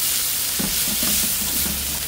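Boiled beef being stirred in a pan for beef caldereta, a steady sizzle with a series of soft, rhythmic scraping strokes, close and alone.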